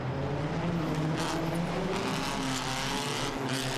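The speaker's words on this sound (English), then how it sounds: "His ailing Impreza limps over the finish line" A Subaru Impreza rally car, ailing at Rally Portugal, drives toward the finish line with a continuous strained engine drone, loud and steady, without talk.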